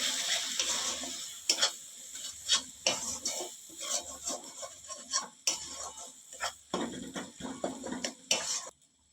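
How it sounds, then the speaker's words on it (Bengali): Ground spices stirred into a frying ghugni pan, a spoon scraping and clinking against the metal in an irregular rhythm over a soft, steady sizzle, close and fairly quiet with no voices. "এরপর সমস্ত গুঁড়ো মশলাগুলো দিয়ে দেবো আবারও করতে থাকবো"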